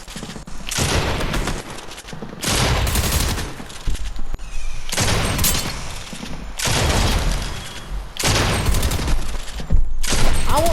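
Rapid SMG fire in a Raiders aim-trainer video game, loud and close, comes in four or five sustained bursts of a couple of seconds each, separated by short gaps, with no talking.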